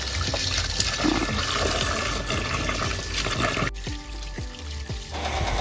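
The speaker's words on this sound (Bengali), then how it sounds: "তো আমি এদিকে ফলগুলো ভালোভাবে ধুয়ে নিচ্ছি" Fruit is rinsed under a running tap, a steady close stream of splashing water with a few clinks and handling knocks, heard alone without talking.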